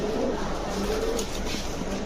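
Pigeons coo softly at a breeders' loft holding racer, Lahori, teddy and Danish breeds, a low continuous murmur of several birds throughout with no talk.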